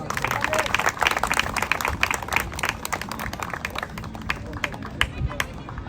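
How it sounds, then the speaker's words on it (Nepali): Applause from a youth meetup crowd, many hands clapping briskly and loudly at first, then thinning slightly toward the end, with some murmuring voices mixed in. "उहाँको लागि हामी ताली बजाइदिउँ"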